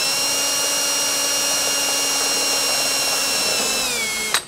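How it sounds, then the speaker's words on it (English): A power drill pre-drills through layers of steel post flashing, a steady high-pitched whine running for several seconds, close and loud, ending in a sharp burst as the bit breaks through and the motor slows. "The point of the pre-drill is to get you through the layers of steel"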